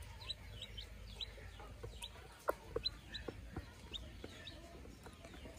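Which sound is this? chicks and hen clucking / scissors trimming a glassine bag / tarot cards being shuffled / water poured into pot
chicks and hen clucking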